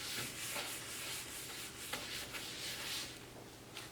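Cloth rubbing across a hard surface to wipe up a diluted cleaning product, giving a close, quiet scrubbing swish in repeated short strokes.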